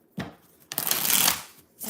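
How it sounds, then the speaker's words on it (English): Tarot cards being shuffled by hand nearby, a couple of brief riffles followed by a longer, louder flurry of cards slapping together, with quiet gaps between. "I'm going to use this deck. 6 shuffles."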